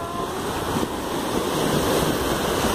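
Waves break and wash up on a sandy beach in a steady, close roar of surf with light wind noise, continuous for a few seconds with no talk.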